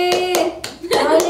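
A child claps after winning a game challenge at home, about five sharp, close hand claps in a quick uneven run, with voices talking over them.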